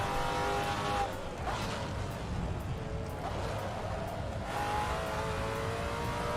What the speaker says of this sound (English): Why does your gearbox sound like it's about to break?